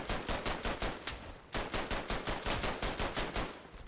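Rapid, loud automatic gunfire in the World War I shooter Verdun, a steady rhythmic stream of shots with a brief pause before resuming at the same pace.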